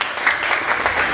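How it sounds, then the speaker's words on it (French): A church congregation claps at a Sunday service, with dense, loud, continuous applause filling a short burst and no voices standing out. "acclamez pour le Seigneur"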